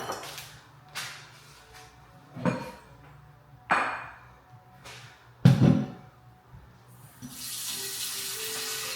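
A tap running water into a vase or bucket for cut flowers, with several short separate bursts of splashing and clunks, then a steady stream of running water at the end, close and without talk.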